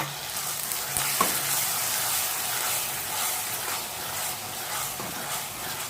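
Grated, peeled tomatoes frying in a pan on top of ginger-garlic paste, giving a steady, close, hissing sizzle that runs unbroken with no voices.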